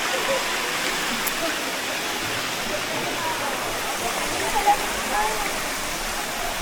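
Daranak Falls in Tanay, Rizal, pours in a constant broadband rush of falling water that holds steady throughout, with no talk over it.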